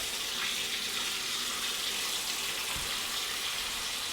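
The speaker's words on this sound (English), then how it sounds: "put the plug in, fill out the cold water" Cold water runs steadily from a tap into a plugged kitchen sink during home beer brewing, a continuous close hiss and splash with no talking.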